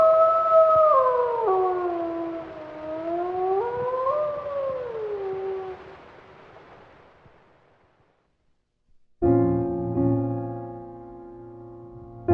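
A wolf's howl set to music in a composed piece, long gliding wails rising and falling in layered tones over several seconds, fading out, then a sustained tonal chord enters abruptly near the end.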